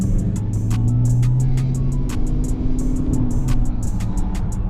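A Dodge Charger R/T engine idles as it warms up, a loud, steady low rumble that holds throughout, with faint ticking and rattles above it.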